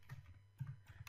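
Keys on a computer keyboard clatter in a few quick, irregular bursts while script code is typed, faint and close with short pauses between strokes.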